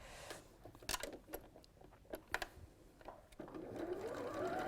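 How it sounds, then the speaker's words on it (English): A sewing machine stitching felt pieces right sides together, with soft clicks and taps giving way to a quiet, rising mechanical whir of running stitches, close and faint. "we're just going to sew these right sides together"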